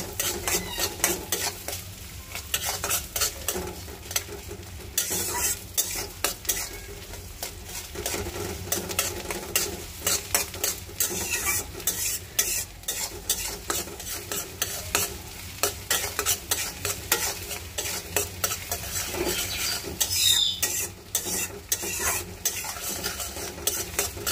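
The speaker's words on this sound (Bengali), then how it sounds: "লাউ শাকের জন্য আমি পেঁয়াজ, রসুন আর পেঁয়াজ ভেজে নিতেছি।" Onion and garlic frying in a pan for bottle gourd greens, with a steady sizzle that runs throughout, broken by frequent scraping stirs and clinks of a metal spatula against the pan.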